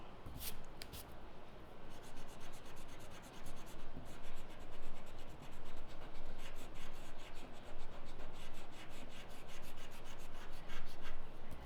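Graphite pencil shading an apple drawing on paper, a close, dry scratching that comes in rhythmic back-and-forth strokes with brief pauses, steady and fairly loud with no talking.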